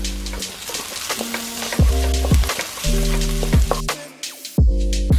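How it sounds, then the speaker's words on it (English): Garlic and spring onions sizzle steadily in a hot pan for a spicy chilli crab dish, with stirring clatters and utensil scrapes breaking in close by and a brief lull near the end. "I put the garlic lang so it's not gonna burn. So now, I'm gonna put a little bit of spring onions"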